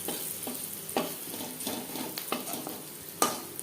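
Onions fry to a reddish brown in a pan, sizzling softly while a utensil stirs and scrapes through them. Several distinct scraping strokes come up close, with a final louder clack near the end.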